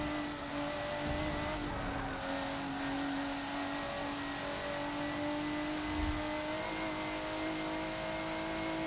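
A race car on the Maple Valley track in Forza drones along with a steady, high engine whine, tires hissing and squealing faintly underneath, holding a fairly constant pitch through the whole lap segment.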